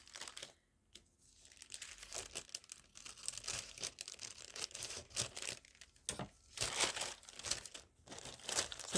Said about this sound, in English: This is a very, very thin paper bag.